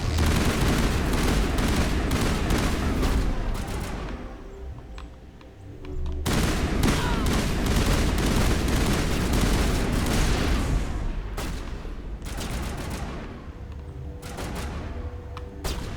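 Rapid gunfire from enemies in the Mass Effect video game, with dense bursts of automatic shots and booms forming a loud, near-continuous fusillade that briefly eases around the middle, with no talking.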